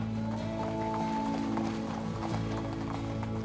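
Horses of a herd being brought in, hooves clip-clopping irregularly over a constant rumbling background hum, fairly close and steady throughout, with no talk.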